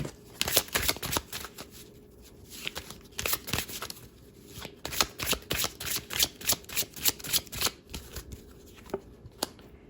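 Oracle cards shuffled by hand during a tarot reading, a long run of crisp riffling flutters and soft card slaps in an irregular, then quicker steady rhythm, close and fairly quiet with no talk.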